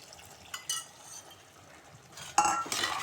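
Radish stir fry with tomato puree being stirred in a pan, a spoon scraping and clinking against the metal in a few short bursts, quiet and close, with a faint sizzle between strokes.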